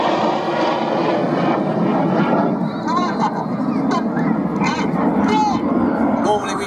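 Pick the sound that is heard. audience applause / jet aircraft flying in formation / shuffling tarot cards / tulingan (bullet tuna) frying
jet aircraft flying in formation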